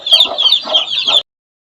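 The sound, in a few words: chickens clucking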